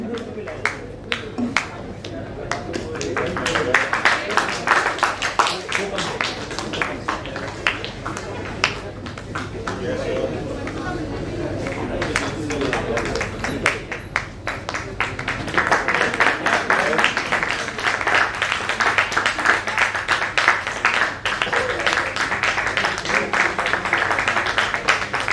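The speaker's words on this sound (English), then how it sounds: "Keep on clapping, keep on clapping. Let's clap." Audience applause at an international yoga e-conclave, sustained dense clapping from many hands that runs the whole length and swells louder midway, with a voice speaking over it.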